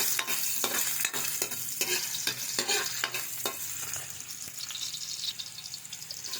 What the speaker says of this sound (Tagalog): Lagay na rin natin itong luya atin muna siya isasangkot siya